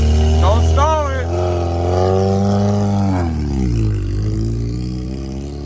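Engine of a manual-transmission VW Rabbit revving unevenly while driving, pitch rising and falling steadily under loud voices talking throughout.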